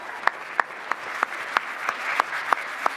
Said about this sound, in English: Please give him a round of applause for keeping me.